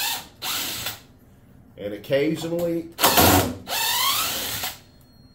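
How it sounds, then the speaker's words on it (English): A handheld power tool buzzes in short bursts, backing screws out from underneath a mold holding a cast epoxy top; someone talks before and between the close, whirring runs. "next thing you want to do is take out all your screws underneath."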